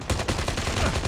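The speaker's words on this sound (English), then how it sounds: "He's got a Glacier weapon as well. I think that was the AK-47." AK-47 with Glacier weapon skin firing in a video game: a rapid, continuous burst of loud automatic shots, close and dense, with no talking over it.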